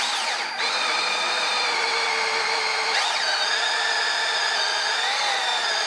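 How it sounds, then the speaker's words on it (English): A power drill with a spade bit whines steadily and loudly for several seconds, its pitch dipping briefly twice as the bit bores through wood. "I'm going to go ahead and drill the hole"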